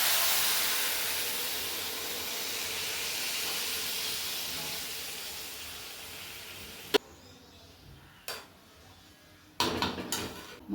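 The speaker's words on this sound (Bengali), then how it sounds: "এই যে গরম জলটা দিয়ে দিচ্ছি।" Hot water poured into a pan of frying mutton and potato curry in a village kitchen produces a steady loud hiss of steam that fades, followed by a few clinks of utensils.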